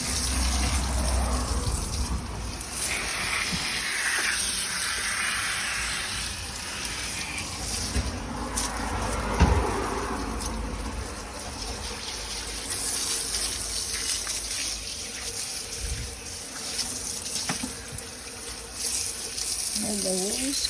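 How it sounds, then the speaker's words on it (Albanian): Water rinses an air conditioner unit being cleaned, a steady running gush like a tap spraying over the parts throughout, fairly close, with occasional clatter of handling. "mund ta lajmë me ujë të bollshëm"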